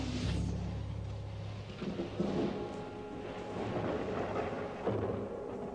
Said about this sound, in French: As-tu vu l'orage qui s'annonce?